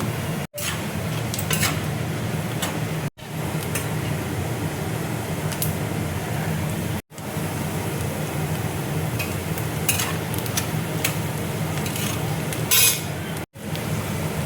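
Peanuts and salt stirred in hot oil in a pan for chiwda, a steady close sizzle with soft scraping, broken by a few brief silent gaps.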